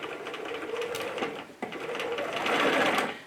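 A domestic sewing machine runs steadily while stitching down a tiny sleeve hem on a coat, a continuous close whirring with a brief hitch midway before it speeds up again, with no talking.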